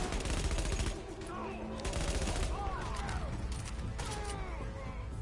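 Dense rapid gunfire from The Division keeps up nearly continuously, loud automatic bursts with sharp cracks and a few whistling ricochets or zips overhead.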